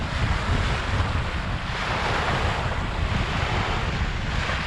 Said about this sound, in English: However, Ruby is withstanding the wind pretty darn good this time around.